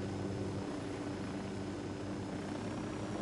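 A steady, even drone of an airplane engine in Ghost Recon Wildlands runs continuously at moderate volume, with no voices.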